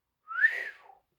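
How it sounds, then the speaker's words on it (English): A single short whistle from a person, a rising-then-sliding tone lasting about a second, clear and alone with no other sound around it. "D-Day whistled."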